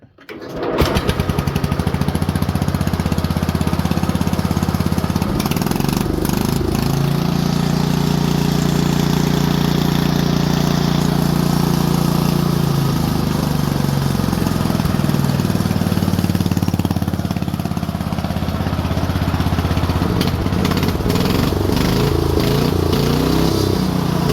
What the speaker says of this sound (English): Let me fire it up so you can hear it.